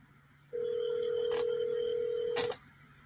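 A telephone tone, played back from a recording, sounds as a single steady electronic note held for about two seconds, clear and alone with no talk over it.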